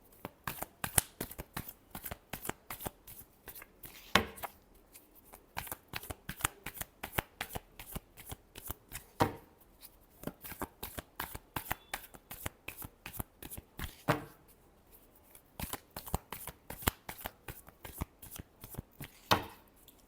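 Tarot cards are riffled and shuffled by hand in quick repeated bursts of crisp flapping clicks, close and fairly quiet, with brief pauses between rounds.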